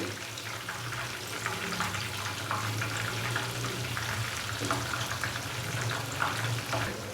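Boneless chicken pakora fries in a pan over a medium-low flame, giving a steady, continuous sizzle at moderate volume throughout.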